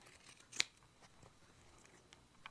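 Scissors trimming the curved edge of fabric sewing pieces: a few quiet, close snips, one sharper cut near the start and lighter clips after.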